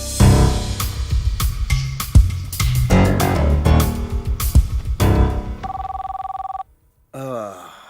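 A telephone rings for an incoming call from India, a loud electronic ring over dramatic film music, with a steady tone then a warbling trill at the end.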